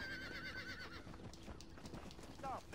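In the Red Dead Redemption video game, a horse whinnies with a wavering neigh near the start and again at the end, over the clip-clop of hooves, with voices talking throughout.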